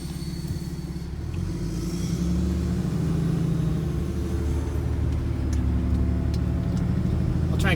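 A 2008 Dodge 3500 pickup truck cruises down a dark road at night, its steady engine rumble and road noise loud and continuous, swelling slightly as it picks up speed with no talking.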